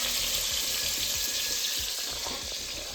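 Chicken pieces browning in a frying pan, a steady loud sizzle with crackling pops and occasional stirring scrapes throughout, no talking.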